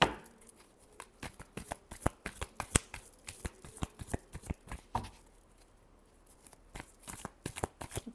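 Tarot cards being shuffled by hand, a dense run of crisp riffling snaps and flutters, close and steady for several seconds, with no talk.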